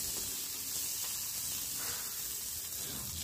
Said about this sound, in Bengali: ফোড়নটা ভাজা হয়ে গেলে উচ্ছেগুলোকে আমি এর মধ্যে দিয়ে দেব আর কিছুক্ষণ এটাকে ভেজে নেব